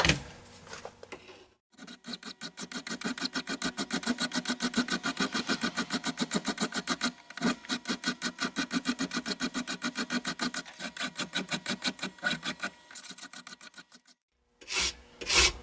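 A hand file rasps across a metal AR15 wrench in fast, even back-and-forth strokes, close and continuous, with a brief pause midway and another near the end before the strokes resume.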